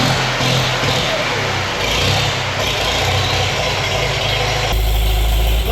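A rare old tractor, parked for years, starting and running: a loud, close engine with a dense mechanical rumble that holds steady, then shifts to a heavier low throb near the end, no speech.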